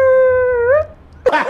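A person imitates a dog with their voice: a sustained, howl-like vocal tone that bends upward, then a short, rough bark-like burst, close and loud.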